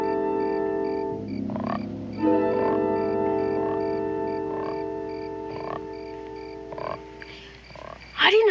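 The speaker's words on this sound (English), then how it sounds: "I didn't know you had a frog." A frog croaking in a television western scene: a repeated low croak pulsing over a steady, droning background, fairly loud and close, with no talking heard.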